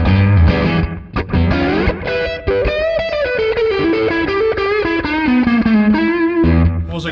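Electric guitar solo played through a delay pedal with heavy distortion, a loud, sustained run of bending, echoing notes that fills about seven seconds without talk.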